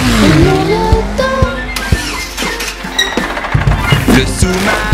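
A cartoon car revs and zooms in a French children's song, with short engine sweeps and bumps layered over bright music and singing.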